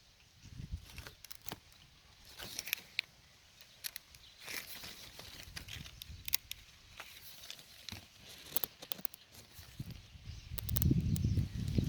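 A fruit tree branch cracks and crackles as it is bent and twisted during shaping, with a series of sharp snaps spread out. Wind rumbles against the microphone near the end.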